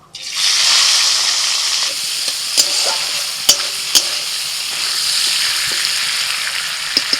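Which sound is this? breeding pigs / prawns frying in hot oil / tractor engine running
prawns frying in hot oil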